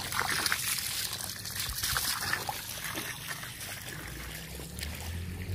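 Water trickles and splashes steadily in a continuous, moderately loud stream at a cattle-fattening farm for bulls, with faint background noise and no clear speech.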